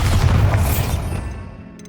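A Bombarda blasting spell in Hogwarts Legacy goes off as a loud, deep explosive boom with crackling debris, decaying over about two seconds.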